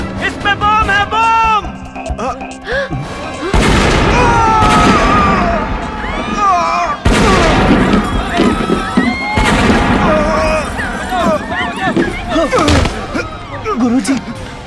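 Bomb explosions in a Bhojpuri action film hit as several sudden loud crashing bursts over dramatic music, with shouting voices and dialogue between them.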